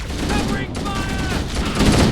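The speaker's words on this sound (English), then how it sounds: "Covering fire!" Dense gunfire and battle noise from Halo: Combat Evolved, a continuous mix of shots and mechanical clatter under faint voices and game sounds, getting louder toward the end.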